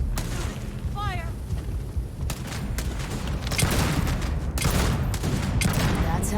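Gunfire volley in the video game Starfield: dense, rapid bursts of shots and booming impacts that build louder toward the end, with game voices faintly under the fire.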